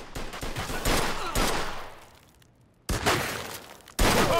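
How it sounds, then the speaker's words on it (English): Gunfire in a Mafia 2 shootout, with dense bursts of overlapping shots at close range that pause for a near-silent gap and then resume loudly. "Oh, nice shot, Vito."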